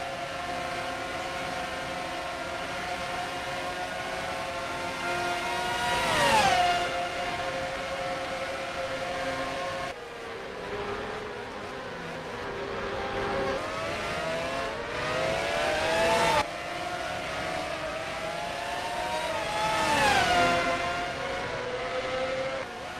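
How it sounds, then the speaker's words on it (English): IndyCar race cars lap the St. Petersburg street circuit in the NASCAR Racing 2003 game, high-revving engines droning steadily with repeated pitch sweeps as cars pass and shift, a continuous loud whine with no talk. "Now, Pillow just getting around some lap cars."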